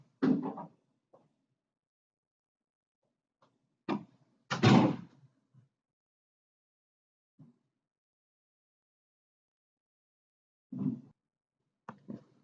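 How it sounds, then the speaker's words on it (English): A few quiet, scattered clunks and knocks come from the main staff entrance door of a museum as it is propped open, with long silent gaps between them. "I'm going to send an officer real quick to prop the door open that you see here at the museum"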